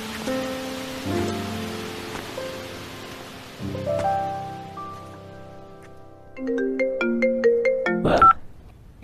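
A telephone plays a melodic electronic ringtone, a series of bright tonal notes that repeats and grows louder toward the end over a soft background hiss.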